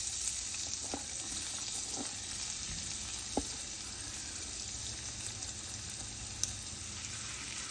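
Onions fry in a pan for a pumpkin curry. A steady, even hiss of hot oil fills the whole stretch, with a couple of faint taps, and no voices.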